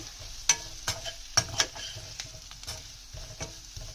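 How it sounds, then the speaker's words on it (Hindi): Ground coriander and red chili powder fry gently in a pan while a spoon stirs them, giving a soft continuous sizzle broken by several sharp scraping clicks against the pan at an uneven pace. Nobody speaks. "फिर हम इसको इसमें हल्का सा फ्राई करेंगे मसालों को"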